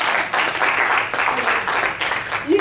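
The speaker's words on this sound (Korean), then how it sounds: "박수 좀 치세요. 박수." A church congregation bursts into applause, a dense sustained clapping that swells and dips over a couple of seconds, close and fairly loud, with no talking over it.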